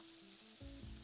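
Chicken fillets sizzle as they sear in a preheated pan, a faint but steady crackling hiss that holds throughout without any voices over it.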